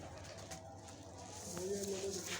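A teddy pigeon gives a soft, brief coo near the end, faint and low against a quiet room background.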